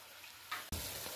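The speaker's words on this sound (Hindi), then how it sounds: "तड़का देखिए हमारा बहुत अच्छे तरीके से भुन गया है।" Spices temper in hot oil for a lentil (masoor dal) biryani, giving a steady close sizzle and fry with a brief clatter partway through.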